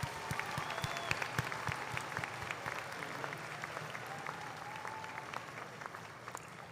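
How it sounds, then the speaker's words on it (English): Graduates at the University of Minnesota Rochester commencement give sustained applause in a large hall, many hands clapping in a dense, steady patter with a few sharper claps standing out and faint voices underneath. "This is an applause of gratitude from our graduates"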